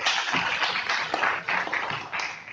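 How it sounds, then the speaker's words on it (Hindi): A seated crowd at a humorous poetry gathering claps, a continuous, fairly loud wash of many hands that holds steady for a couple of seconds, alone without talk. "ताली वाली बजा सकते हैं।"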